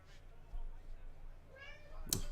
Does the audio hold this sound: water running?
no